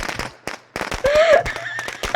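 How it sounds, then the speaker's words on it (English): Firecrackers in the video game State of Decay 2 go off in a rapid, irregular string of sharp cracks and pops, loud and close, with a brief whistling tone in the middle. "Because their attention will be captured by the firecrackers?"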